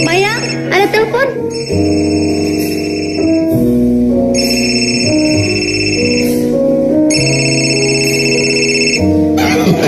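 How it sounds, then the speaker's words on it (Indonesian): A telephone rings in a family home, sounding in repeated bursts of high tonal tones over a steady backdrop of music throughout. "Mayang, ada telepon."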